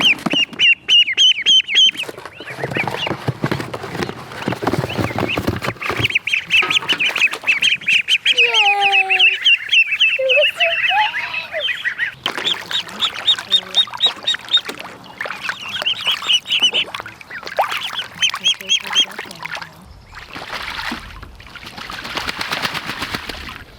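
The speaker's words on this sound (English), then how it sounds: "So these are our ducks. You can see they're very noisy." Jumbo Pekin ducks crowd a box, quacking loudly and almost nonstop while their feet and bills tap rapidly against it, a dense, close, clattering chorus that fades slightly near the end.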